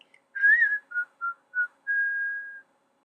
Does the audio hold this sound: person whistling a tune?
yes